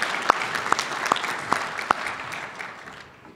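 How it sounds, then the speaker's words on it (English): Audience at Duluth's 2012 State of the City address applauds for the city police color guard, a short burst of clapping with a few sharp claps standing out, fading toward the end. "Let's give a round of applause to the City of Duluth Police Color Guard."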